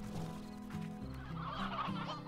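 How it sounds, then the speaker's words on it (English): Chickens cluck and chatter in the video game Slime Rancher, a loud, dense, continuous flock sound with overlapping calls and a steady low hum beneath. "Chickens! Back! They're so fucking loud."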